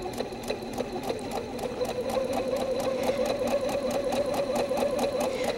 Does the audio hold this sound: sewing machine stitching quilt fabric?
yes